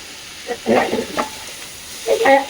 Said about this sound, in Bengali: এইটাকে মানে এই সবজিটাকে একটু হালকা নাড়াচাড়া করতে হবে